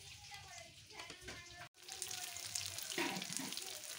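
Rui fish frying in hot oil, a soft steady sizzle that swells louder in the second half after a brief cutoff, heard faintly with a voice speaking over it.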